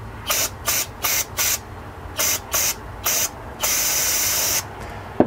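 Quick bursts of aerosol carb cleaner hiss in a series of short puffs, then one longer continuous spray, close up, cleaning a Toro Recycler 22-inch lawn mower.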